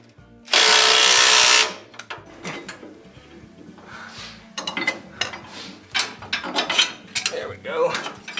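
Old U-bolts on a truck being loosened: a loud, close mechanical burst of about a second, followed by scattered metallic clanks, knocks and rattles of work on the fittings.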